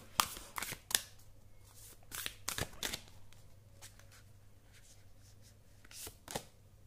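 Tarot cards are shuffled and drawn in crisp, close riffles and snaps, several quick bursts separated by quieter gaps, with no voice over them.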